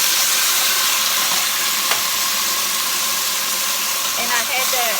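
Onions and green pepper hiss and sizzle loudly in preheated olive oil in a pan, a dense steady frying sound with a faint voice underneath.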